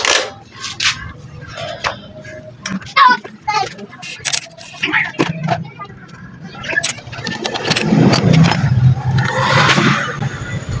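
A Euro 150 motorcycle that is hard to start and misfiring, recently given a cleaned carburetor and new spark plug, cranks in short bursts and then briefly roars and sputters near the end, with people talking over it.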